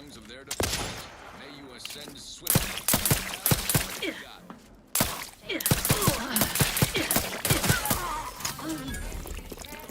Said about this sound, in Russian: А еще кто-то с этой стороны стрелял.